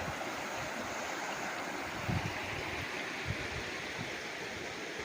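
Steady broadband rushing of a flowing river bordering a farm lot in Cavinti, Laguna, constant and fairly close, with a few soft splashes standing out briefly.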